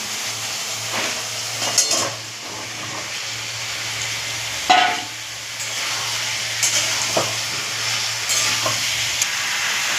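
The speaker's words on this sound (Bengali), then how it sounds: "এবার আমি সবজি দেবো। সবজির মধ্যে আছে আলু, মূলো আর কুমড়ো।" Potato, radish and pumpkin pieces sizzle and fry in a spice paste in a pan, with a steady hiss broken by occasional scraping stirs of the spoon, close and fairly loud with no talking.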